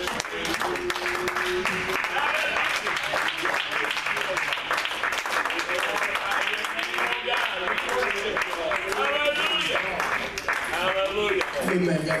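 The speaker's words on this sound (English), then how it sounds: "Would you clap your hands unto the Lord?" Church congregation clapping hands in praise, a steady dense patter running the whole time under loud music and singing or voices.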